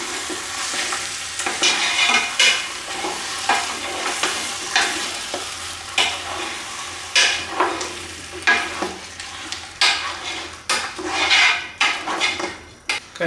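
Beef stew with store-bought crushed tomatoes being stirred in a pot over raised heat, close repeated scraping and clattering strokes of a spatula over a steady simmering sizzle.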